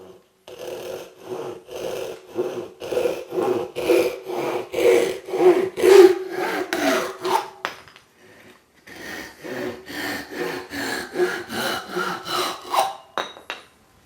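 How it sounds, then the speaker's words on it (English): A Japanese pole saw cuts through wood for a squirrel-proof bird feeder build, its rhythmic rasping strokes coming close and clear. It pauses briefly midway, then saws on in a steady back-and-forth pattern. "I'm going to make the last couple cuts with this Japanese pole saw that Chris from Cowdog Woodworking"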